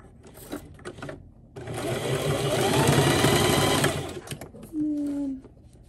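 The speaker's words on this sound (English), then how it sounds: "Okay, so now we're going to sew on the elastic." A sewing machine runs in one steady burst of a couple of seconds, stitching elastic onto a fabric dog bow tie, with quieter handling noises and a short whine before and after.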